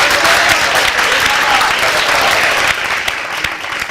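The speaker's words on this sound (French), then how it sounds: "Applaudissements pour vous." Audience applause at a televised student awards event, a dense, loud burst of many hands clapping that carries steadily throughout and eases slightly toward the end.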